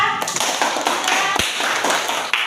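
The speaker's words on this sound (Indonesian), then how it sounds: "tepuk tangan untuk Eva" Classroom applause for a student named Eva, a fairly loud burst of many hands clapping together, steady and close, lasting a couple of seconds.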